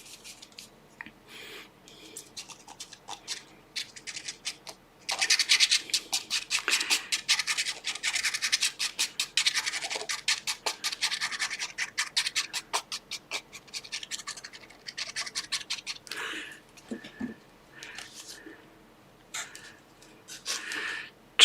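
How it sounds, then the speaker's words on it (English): Paper being glued down for a botanical envelope flip, with close dry rubbing and scratching strokes that come in dense bursts, quiet at first and then busier. "So yeah, I'm going to glue this part down."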